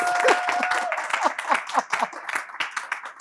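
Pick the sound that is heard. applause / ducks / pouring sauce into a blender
applause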